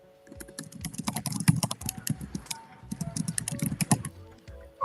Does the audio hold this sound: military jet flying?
no